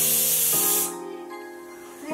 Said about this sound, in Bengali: এখন আমি গ্যাসটা জ্বালিয়ে কুকারে 2 সিটি দিয়ে দেব।